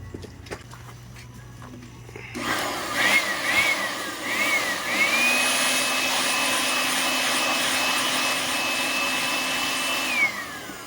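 A Toyota Corolla Altis blower motor starts up and runs with a steady whirring hum and a high whine, holding constant before winding down at the end.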